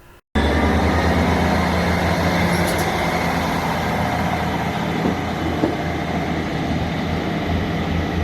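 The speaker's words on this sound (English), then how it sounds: "here's my train whizzing through Altnabreac without stopping, of course" A train roars through Altnabreac station in Scotland close by at speed without stopping, a loud continuous rumble and rush that fills the whole stretch, with a faint squeal partway through.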